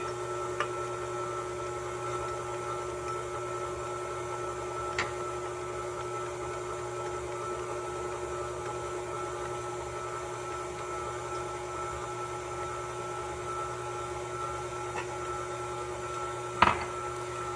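A stand mixer turns donut dough on low speed, producing a faint, steady mechanical hum with a couple of soft clicks and one brief knock near the end.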